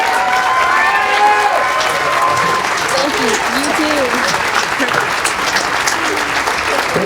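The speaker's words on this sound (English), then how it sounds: "One round of applause" Loud, close audience applause with cheers and whoops for a high school mariachi band and a Juilliard-trained pianist, dense clapping throughout while voices call out over it.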